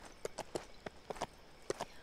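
Faint, crisp horse hoofbeats clop in an uneven walking rhythm in the video game Lego The Lord of the Rings, about eight quick knocks over a couple of seconds, with no voices.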